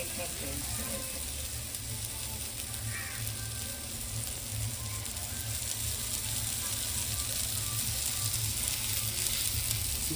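Oil sizzles steadily in a pan while prawn masala cooks, a constant moderate crackle with a faint scrape of stirring partway through.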